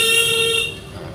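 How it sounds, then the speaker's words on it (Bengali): A car horn sounds during a driving lesson: a steady, fairly loud honk held for about half a second, then fading into a quieter hum of road and engine noise. "একটু হর্ন দেন।"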